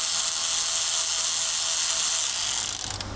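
A 10mm socket ratchet works on the ignition coil bolts of a Trailblazer, a steady close whirring, clicking mechanical noise that runs without pause for about three seconds before it tapers off near the end.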